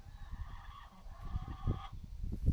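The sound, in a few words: chicks in a coop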